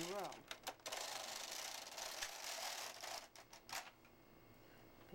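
A knitting machine carriage is drawn across a row, producing a steady broadband mechanical rush and clatter with a few sharp clicks at the start and end, close and alone.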